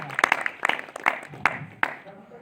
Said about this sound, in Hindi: सबसे पहले एक बार जबरदस्त तालियां बजाई लालजी सर के लिए